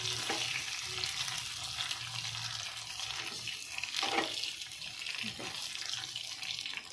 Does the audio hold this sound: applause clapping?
no